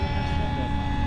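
The RC model airplane Flying Witch Alba flies past with a steady, close motor whine that holds a constant pitch through a brief moment.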